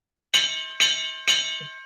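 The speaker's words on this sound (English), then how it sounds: "there's your bell" A ringing bell, like a boxing bell, is struck three times at even intervals, each strike loud and bright with a lingering metallic ring that overlaps the next.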